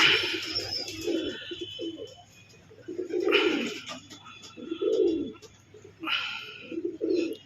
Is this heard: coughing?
no